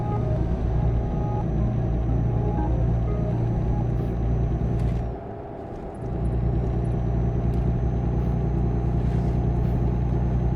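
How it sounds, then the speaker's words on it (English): A truck engine rumbles steadily and loudly throughout, a deep continuous drone with a brief dip in level midway before resuming at full strength. "My truck's making the noise again."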